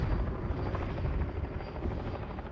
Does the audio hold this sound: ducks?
no